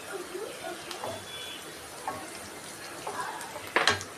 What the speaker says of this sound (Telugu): కరివేపాకు వేసుకున్నాం